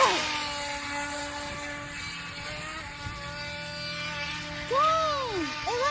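A small RC boat's electric motor running out on the water, a steady high-pitched whine with shifting tones that rises and bends near the end, heard from a short distance.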